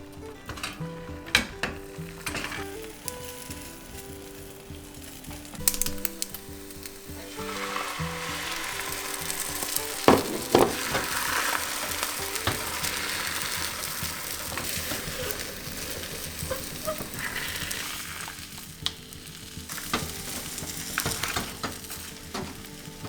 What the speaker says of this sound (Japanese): 卵焼き用のフライパンにオリーブオイルをひいて焼いていきます。